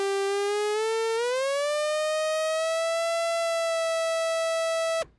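A single sustained synthesizer note whose pitch envelope sweeps it upward in a smooth glide, then holds steady before cutting off abruptly, clear and alone.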